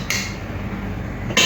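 A metal lid clanks onto a cooking pot of boiling water for masala chicken biryani rice, with one clatter at the start and another near the end over a steady bubbling simmer.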